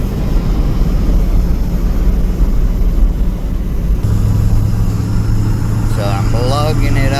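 The engine of a 1988 Chevy K2500 pickup drones steadily and loudly as it labors up a mountain road. A deep, continuous rumble runs through the whole stretch, with voices talking over it near the end.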